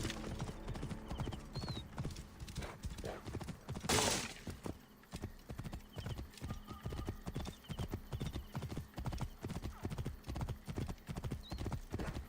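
Horse hooves gallop in a fast steady clip-clop rhythm in the video game Assassin's Creed Origins, with a brief whinny-like burst early on, continuous throughout.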